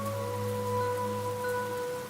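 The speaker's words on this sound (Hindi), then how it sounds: "तेज बारिश हो रही थी।" Heavy rain falls as a steady, dense hiss with soft droplet texture beneath sustained eerie music, continuous and even from start to end.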